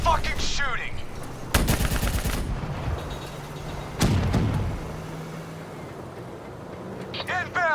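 Gunfire in the Call of Duty Black Ops III video game: loud bursts of automatic fire and sharp shots mixed with explosions and vehicle rumble, with brief shouted game dialogue between volleys.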